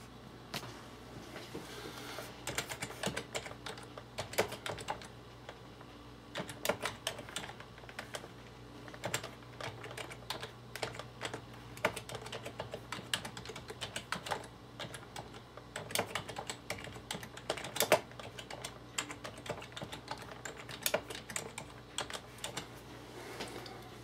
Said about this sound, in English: we'll just type some kind of random whatevers into our WordPad